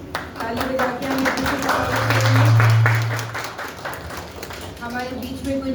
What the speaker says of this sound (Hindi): करते हैं ताली बजा के हम